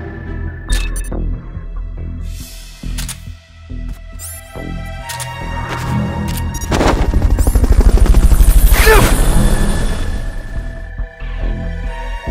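The rotor of a helicopter in the stealth action video game Metal Gear Solid: Peace Walker throbs steadily and loudly, swelling to a peak midway, with scattered sharp gunfire-like bursts and other game effects mixed in.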